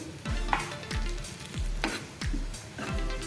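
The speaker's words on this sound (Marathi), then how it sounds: "आपण जे बेसन घेतलेलं आहे आपण ते छान खमंग असं मंद विस्तवावरती सात ते आठ मिनिट आपण हे परतून घ्यायचं आहे" Gram flour (besan) is stirred in ghee over low heat, giving a steady soft sizzle with repeated scraping strokes of a spoon against the pan at an even rhythm.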